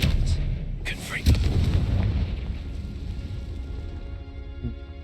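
In the Hogwarts Legacy video game, the Confringo blasting spell goes off as a single sharp explosive boom that decays into rumbling, following a short magical whoosh.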